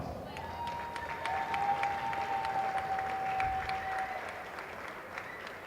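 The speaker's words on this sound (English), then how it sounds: "let's give these critical participants a great big round of applause" Sustained applause from a crowd at a high school boys basketball game, dense clapping throughout with a faint whistle or tone drifting over it.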